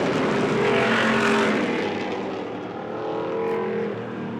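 Street stock race cars racing laps in a heat on a dirt oval, a loud, dense roar of several engines swelling and fading slightly as the pack goes by.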